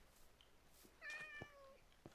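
A cat meows in a heavily modded Minecraft-style video game, a short tonal call heard once at moderate volume against faint background game ambience.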